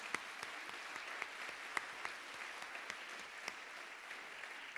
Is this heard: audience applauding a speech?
yes